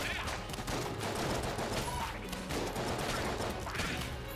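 Steady rapid gunfire in Enter the Gungeon, with Smiley's revolver firing in quick repeated shots, dense and continuous throughout.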